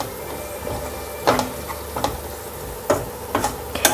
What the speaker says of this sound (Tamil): இந்த மசாலாலாம் இந்த எண்ணெயில் வந்து கொஞ்சம் ஃப்ரை ஆகணும்